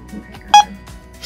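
A refrigerant leak detector, a Mastercool Intellasense II, gives a short electronic beep once, surrounded by faint clicks and soft handling noises.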